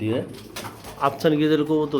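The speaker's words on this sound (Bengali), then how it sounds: "এক জোড়া সুন্দর আফসান গ্রিজেল কবুতর" A pair of Afsan grizzle pigeons coos close by, with soft, throaty rolling calls rising and falling over about two seconds.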